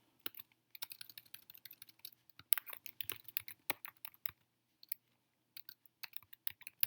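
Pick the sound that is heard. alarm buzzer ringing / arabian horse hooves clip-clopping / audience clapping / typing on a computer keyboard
typing on a computer keyboard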